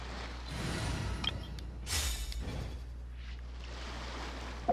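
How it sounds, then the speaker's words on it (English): Ocean waves in Genshin Impact wash in soft, broad surges, a few whooshing swells rising and fading over a steady low background hum. "Sound of the ocean waves."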